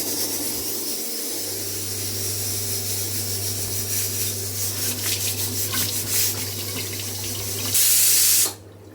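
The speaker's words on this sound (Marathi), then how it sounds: "पाणी घेते आधी मी" Tap water runs steadily into a pot for several seconds, with a low hum underneath and a louder rushing burst near the end before it stops.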